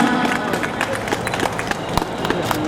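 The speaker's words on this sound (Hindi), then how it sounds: "गौतम सर जोरदार तालियां नहीं रुकनी चाहिए स्वागत करते हुए।" Applause welcomes teachers at a school retirement function, brisk continuous clapping from a gathered group that holds steady throughout, with someone talking over it.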